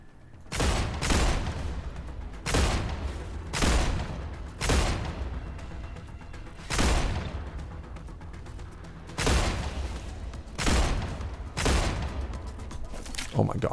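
Repeated heavy gunfire bursts in the game StarRupture, about nine booming shots spaced a second or two apart, each with a long reverberant decay, loud and close, with a person talking at times over the shooting.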